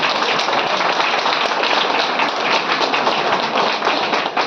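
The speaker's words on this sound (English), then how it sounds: "Give this lady a big round of applause." An audience at a training seminar gives a round of applause, a dense, steady patter of many hands clapping nearby for several seconds with no talk over it.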